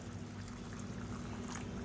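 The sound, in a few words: hot water poured into biryani gravy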